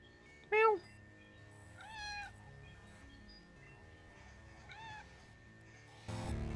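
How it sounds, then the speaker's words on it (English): A pet cat named Pancake meows three times in separate, clear calls spaced a second or more apart, each one rising and falling, over a quiet room with a soft hum and a brief rustling burst at the end. "here's a video of my cat, Pancake, meowing back to me."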